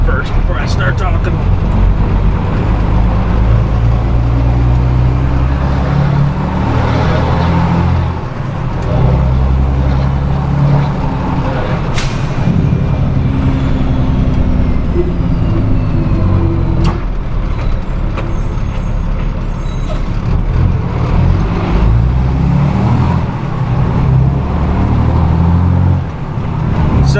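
A flatbed straight truck climbs an 8% grade out of Hurricane Valley, its engine droning loud and steady in the cab with gear changes and occasional air hisses, while someone talks over it at times.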